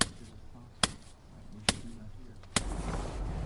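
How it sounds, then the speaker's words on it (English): Hard strikes of a pointing tool compacting lime mortar into stone wall joints: three sharp, loud knocks about a second apart, then a scraping rasp that carries on at the end. "This is a compacting and a texturizing tool. So it's quite a hard struck,"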